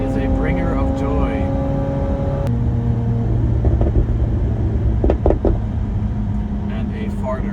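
A McLaren 750S engine and exhaust rumble loudly from inside the car as it revs and shifts, with a person talking over the drone.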